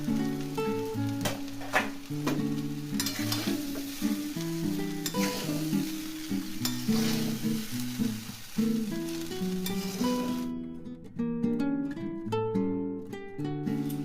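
Vegetables stir-fry in a pan for veg fried rice, with a continuous loud sizzle and frequent scraping and stirring clatter throughout, close up and without speech.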